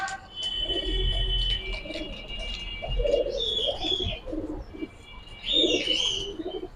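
Gribaz silver pigeons coo in low, throaty rolls at close range, with faint chirping from other birds over a steady background hum.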